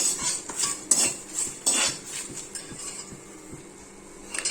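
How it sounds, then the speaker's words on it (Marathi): Whole spices are dry-roasted in a pan for Malvani chicken rassa, with repeated metallic scraping and clinking of a spatula stirring them over a faint background hiss. "हे जे खडे मसाले आहेत आपले हे मस्त इथे खमंग आपल्याला भाजून घ्यायचे आहेत"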